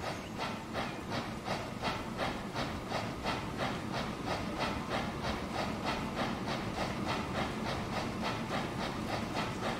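A train runs along a track in the Transport Fever 2 simulation game, giving a quiet, regular chuffing rhythm of rapid, evenly spaced pulses over a soft hiss throughout.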